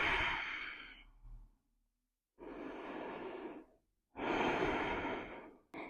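Slow, deep breaths during a core-focused yoga flow: a long exhale, then two more full breath cycles with pauses between, close and alone with no talking.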